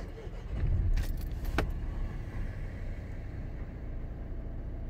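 A car engine is restarted: keys jangle briefly, then a low rumble catches and settles into a quiet, steady idle.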